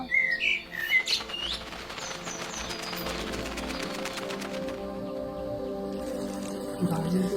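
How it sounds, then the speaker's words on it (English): Morning birds chirp and tweet by a lake, bright calls scattered through the opening seconds over a continuous layer of background sound. "bird song instead of alarms"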